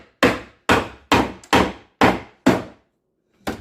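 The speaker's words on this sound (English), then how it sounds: "I'm going to start popping away the skirting of this cedar chest. Let me kind of pry it." Wooden skirting being pried and knocked loose from a cedar chest: six sharp, evenly spaced wooden knocks in quick succession, a short pause, then one more, loud and close with no talking.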